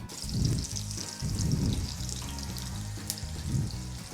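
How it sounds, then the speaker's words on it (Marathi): Roasted ground masala frying in three to four spoons of oil in a pot for a Maharashtrian patolya curry, a close hissing sizzle with soft pulsing bubbles swelling and fading in a slow rhythm. "भांड्यामध्ये तीन ते चार चमचे तेल टाकायचे आहे त्यात हा भाजून वाटलेला मसाला तो टाकायचा आहे"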